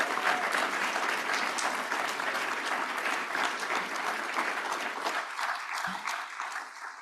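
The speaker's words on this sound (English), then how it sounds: "Can I get a big round of applause for our Community Fellows?" Sustained applause from a plenary audience for community fellows, dense and steady clapping at full strength for about five seconds before thinning out toward the end.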